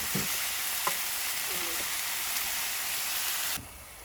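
Mince, onions and garlic frying for spaghetti bolognese outdoors in the woods, a steady close sizzle with a few soft clicks and stirring knocks, dropping quieter near the end.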